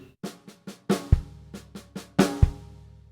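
A drum kit plays one bar of a grade-exam rhythm on snare and kick, with crisp individual snare hits and two deep kick thumps, accents falling on the last snare of each four-note group, close and dry.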